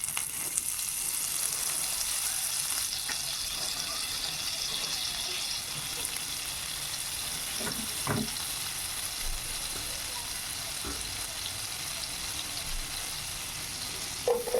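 Pav bhaji fries in butter with a little refined oil, giving a steady, close sizzle throughout, broken by a few soft stirring clicks.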